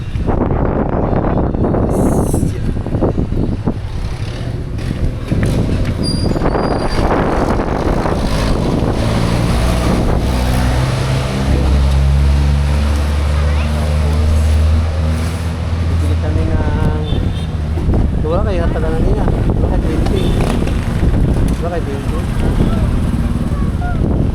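Strong wind buffets the microphone in loud gusts, roaring over a low rumble, with people talking at times.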